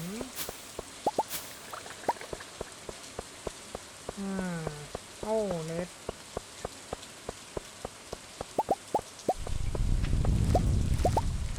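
Scattered raindrops tap and plink irregularly on a surface in the video game Stardew Valley, with a brief murmured voice in the middle and a low rushing swell near the end.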